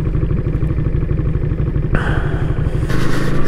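Suzuki Intruder 125 VL motorcycle ridden through Oberhof, its engine droning loud and close throughout, with wind rush and two noticeable shifts in engine tone.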